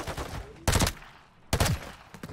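Gunfire in Call of Duty MW3 Search and Destroy, two loud, close bursts of rapid shots separated by quieter gaps with fainter distant firing.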